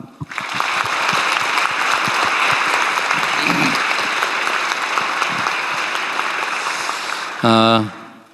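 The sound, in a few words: audience applauding to welcome young scientists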